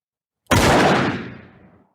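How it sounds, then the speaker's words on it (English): A single gunshot fired into a gym ceiling in a scene from the film Foxcatcher, loud and sharp, with a booming echo that fades over about a second after near silence. "And he shoots the gun into the ceiling."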